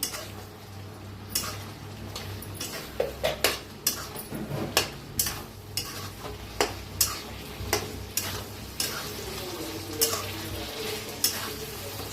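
A spoon stirs village-style stuffed capsicum curry in a pan, scraping the metal in steady, repeated strokes with sharp clinks over a low background hum.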